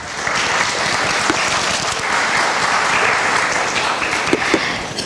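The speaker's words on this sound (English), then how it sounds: "Let's give him a round of applause." Audience at a church gathering breaks into sustained applause, a dense even wash of clapping from many hands lasting several seconds, loud and close.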